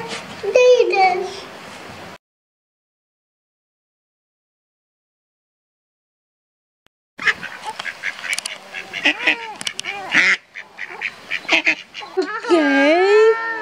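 Ducks quack in a run of rapid, close calls at a park pond during feeding, after a short burst of noise and a long silent gap, with voices mixed in.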